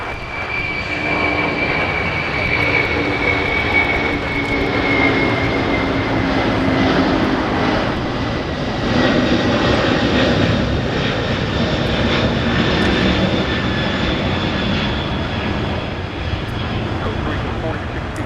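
An airplane takes off at LAX, its engines roaring loud and steady as it climbs away. Voices talk in the background.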